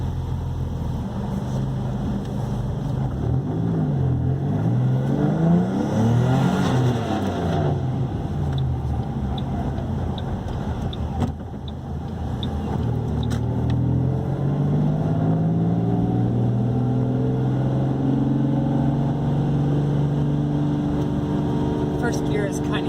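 A turbocharged Ford Mustang 4.0 V6 engine drones and revs, rising in pitch through acceleration, dropping briefly at a shift, then climbing again; a voice talks over it.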